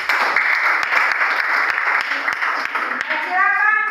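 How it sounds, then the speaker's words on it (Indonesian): A class claps steadily and briskly for a group of students after a presentation, with children's voices chattering underneath; near the end a high, whistling voice rises over the clapping. "tepuk tangan untuk kelompok"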